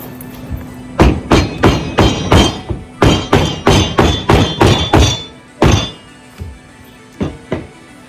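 A mallet strikes press board in a run of about fifteen sharp, close thuds, quick and fairly regular at first, then sparser toward the end, with no voices.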